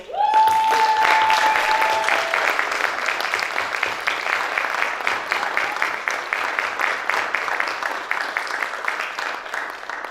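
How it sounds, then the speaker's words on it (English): A sustained round of applause from families at an 8th grade graduation ceremony, many hands clapping in a thick, even wash that starts loud with a brief tone and slowly eases over about ten seconds. "Please join me in one last round of applause for our 8th grade graduates."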